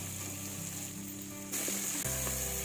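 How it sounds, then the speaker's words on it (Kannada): Onion sizzles steadily in hot oil in a pan for rajma veg pulao, with the scrape and stir of a spatula shifting the sound partway through; loud and close with no talking. "ಈಗ ನೀರುಳ್ಳಿ ಹಾಕ್ಕೊಳ್ಳೋಣಂತೆ, ನೀರುಳ್ಳಿ ಹಾಕಿ ಈ ರೀತಿ ಕೈಯಾಡೋಣ."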